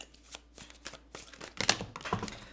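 Tarot cards riffled and shuffled in hand, a run of soft papery flutters building into a couple of louder, crisp snapping bursts near the end, close and dry.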